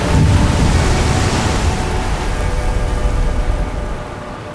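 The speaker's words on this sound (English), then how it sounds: "when you just listen to the sound of the waves" Atlantic ocean waves surging inside a coastal sea cave, a loud, broad, rumbling wash that slowly eases off, with no voices.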